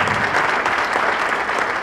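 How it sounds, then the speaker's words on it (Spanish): Applause from the audience at an anniversary celebration for Emilio's signature business, a steady dense wash of clapping that holds at full loudness for the whole stretch. "Aplausos grandes."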